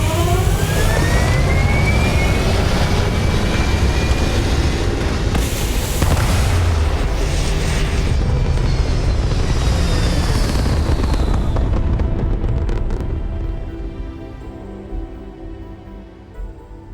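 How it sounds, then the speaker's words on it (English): Spaceship thrusters fire in Starfield, a loud, sustained roaring blast with rising whooshing tones that holds for about twelve seconds, then gradually fades to a low rumble. "All thrusters firing."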